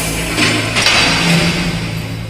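A short burst of Five Nights at Freddy's animatronic movement sound effects from the video game: dense, noisy clattering and scraping thuds that run on for a couple of seconds at a fairly loud level.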